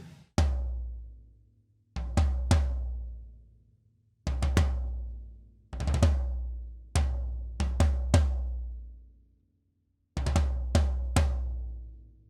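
Floor tom in a recording studio, miked from above and below, struck in loud, close groups of two or three deep booming hits, each ringing out and decaying before a pause.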